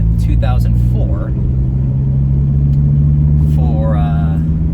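A Dodge SRT Viper engine idles with a steady, deep low rumble throughout, while a person talks over it inside the car.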